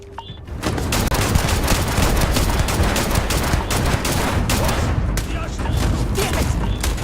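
Sustained rapid gunfire in the Starfield game, dense overlapping shots and bursts for several seconds, loud and close, with combat shouts mixed in.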